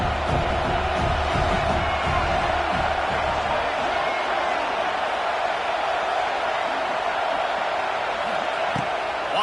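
A college football stadium crowd roars steadily and loudly for the full stretch, a dense wall of cheering and shouting with no break.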